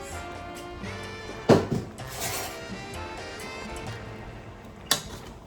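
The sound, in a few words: mixing sancocho stew in a pot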